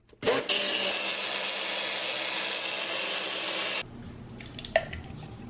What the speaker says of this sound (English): We're gonna blend.